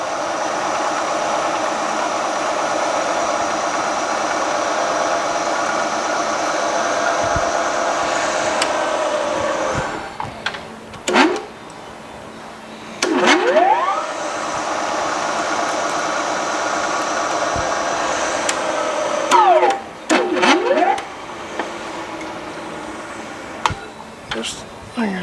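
Machine drilling an engine part for balancing, a loud, steady whirring drone that stops and restarts, with short squealing and clanking bursts between runs.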